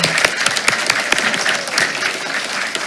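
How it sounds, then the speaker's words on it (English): Audience applause at a school board meeting, steady dense clapping from a crowd filling the room for about three seconds with no talk over it. "Let's give her one more round of applause."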